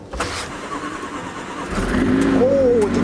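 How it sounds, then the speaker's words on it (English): Car with a straight-piped Inconel exhaust cranking in frosty cold, the starter churning before the engine catches and rises into a rough, loud idle close by. "So should be able to start the car and then get it warmed up."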